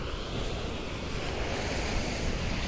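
Large ocean waves pound Gopalpur beach in Odisha at night, a steady, loud roar of surf with continuous broadband wash and wind noise across the microphone, no voices.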